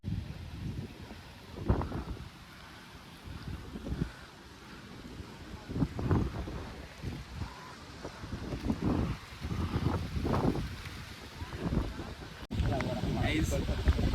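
Strong wind on the climb to Kaldurg fort buffets the microphone in low rumbling gusts that swell and fade over a steady rushing background.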